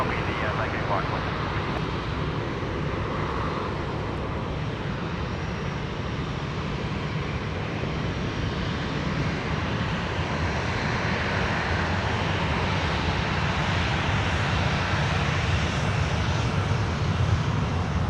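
A jet airliner landing at Sydney Airport at night, its engines roaring as a loud continuous broadband rumble and whine that holds steady throughout, with voices present faintly underneath.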